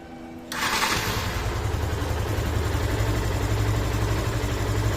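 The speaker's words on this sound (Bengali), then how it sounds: "এটা কিন্তু ফ্রি অ্যাক্সেলেটারের ইঞ্জিনের সাউন্ড, ফ্রি অ্যাক্সেলেটারের সাইলেন্সারের।" A Yamaha FZ-S v2 150cc motorcycle fires up after a brief quiet moment and settles into a steady, close idle with a throbbing exhaust pulse from the silencer, the throttle left untouched throughout.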